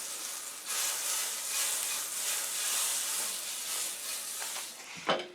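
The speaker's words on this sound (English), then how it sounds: "now once my skillet is sizzling hot, you can see that little water bouncing around" Butter melting in a sizzling-hot skillet, heated for oats pancakes, gives a steady close frying hiss that swells after a soft start and carries on unbroken, with a sharp clink near the end.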